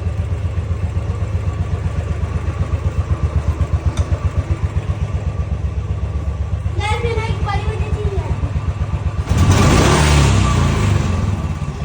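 A motorcycle engine idles close by with a steady throbbing pulse and is then revved hard near the end, the roar swelling loud while a person talks over it.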